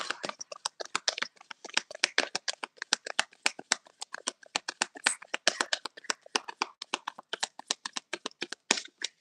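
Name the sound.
shuffling a tarot card deck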